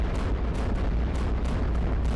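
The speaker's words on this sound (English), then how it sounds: "We're going to use a cannon to do some extra damage." Cannon fire against aircraft in the tower-defense game iBomber Defense, a dense, continuous rumble of booms and explosions with repeated sharp bursts over a heavy low-end roar.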